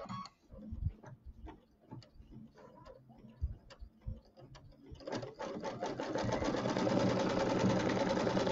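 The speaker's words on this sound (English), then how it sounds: "Then it's going to stitch around the outside to stitch on that backing." Sewing machine stitching backing onto a quilt: a few scattered clicks and taps at first, then a steady, close, rapid mechanical whirring rhythm that runs to the end, with no talk.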